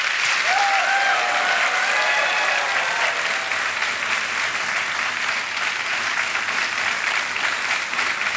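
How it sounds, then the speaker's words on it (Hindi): Studio audience on the KBC television quiz show breaks into loud, sustained applause that fills the whole stretch at a steady level, with a brief tonal music cue near the start. "जोरदार तालियां बज जाएं।"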